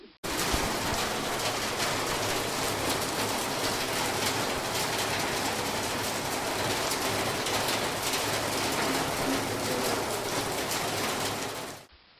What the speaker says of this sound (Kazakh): жаңбырдың жауған дыбысын да біледі екенсіңдер